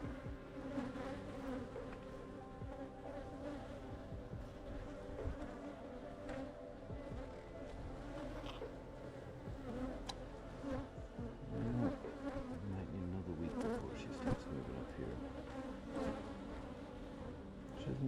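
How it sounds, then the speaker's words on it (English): A dense, steady drone of many honeybees buzzing close by inside an open hive, continuous throughout with slight swells in loudness. "Definitely have a lot of bees down in there."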